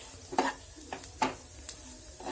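Egg bread masala with sambar powder being stirred and fried in a pan, a soft sizzle broken by several scraping strokes of the spatula, near and fairly quiet with no talking.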